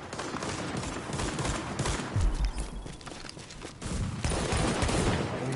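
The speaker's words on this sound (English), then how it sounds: "I'm gonna play with the flashbang for a little bit." A flashbang grenade goes off in a shooter video game with a deep thump near the middle, surrounded by rapid bursts of gunfire and no talking.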